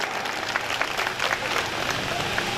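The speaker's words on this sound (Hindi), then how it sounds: "एक बार ताली बजाकर आपका स्वागत करेंगे।" An audience at a Shiv Mahapuran katha claps to welcome a guest, a steady medium-loud patter of many hands sustained throughout.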